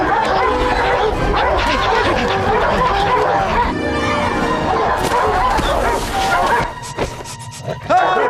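Cartoon dogs bark and yip in a rapid, overlapping pack, loud and close, with whimpers and excited vocal chatter mixed in before the barking thins out near the end.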